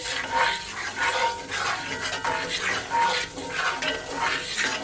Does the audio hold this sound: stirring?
yes